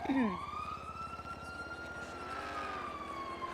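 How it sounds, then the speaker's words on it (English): In a video game, police sirens wail past with rising and falling electronic sweeps over a low engine rumble, heard at a distance and fairly quietly, with some talk in the background. "wait for these sirens to go by real quick"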